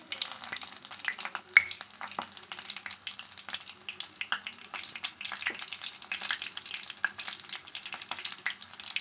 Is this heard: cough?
no